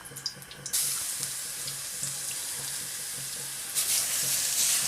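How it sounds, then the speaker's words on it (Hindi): Garlic frying in two to three spoons of hot oil in a pan, a steady broad sizzle with a louder surge of hiss near the end, no talking. "अब हम इसमें 2 से 3 चम्मच ऑयल डालेंगे। इसमें लहसुन डालेंगे,"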